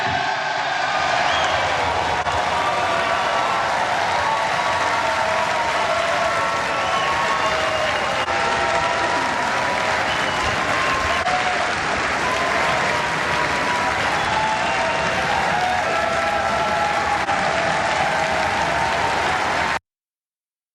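A chamber full of lawmakers in the House of Representatives applauds Kevin McCarthy's election as Speaker: dense, sustained clapping for about twenty seconds, loud and even throughout, then an abrupt stop.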